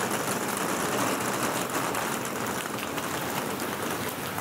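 Steady rain falls during the rainy season in Costa Rica, a dense continuous hiss of drops on surfaces with even loudness throughout and no voices.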